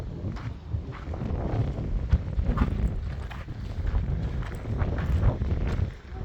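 Wind gusting across the summit of Mount Bental, a dormant volcano in the Golan Heights, buffeting the microphone in a steady rumbling roar with fluctuating low gusts throughout.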